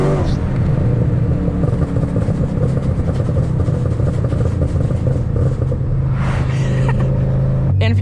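A Shelby GT500 at full throttle on street tires, a loud, deep, continuous engine roar heard from inside the car, rumbling steadily throughout with some wind and road noise.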